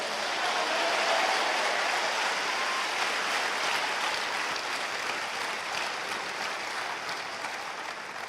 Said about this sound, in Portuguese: Dá uma salva de palmas aí, dá glória a Deus